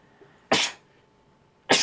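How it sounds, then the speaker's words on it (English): Two loud, sharp sneezes burst out about a second apart, close up, with near silence around them. "I'm just sneezing"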